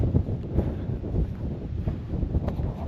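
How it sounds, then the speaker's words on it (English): Steady wind buffets the microphone outdoors on open plains, a low continuous rumble with gusty surges and no voices. "It's kind of windy out here on the plains."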